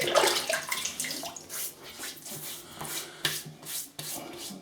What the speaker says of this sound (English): So I'll wet my face and I'll get that going.